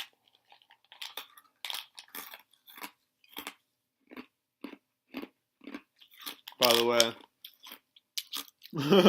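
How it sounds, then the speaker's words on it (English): Someone crunching ice between their teeth, a dozen or so sharp close bites in an irregular rhythm, with a voice talking briefly near the end. "sorry, I'm chewing ice."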